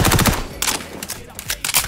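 MP5 submachine gun fire in the video game XDefiant: rapid close automatic bursts broken by short pauses, loud and sharp across the moment.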